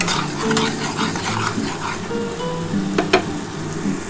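Spice masala for a tangra fish curry being stirred and fried in oil, a ladle scraping and knocking against the pan over a constant sizzle, with a couple of sharper clinks near the end.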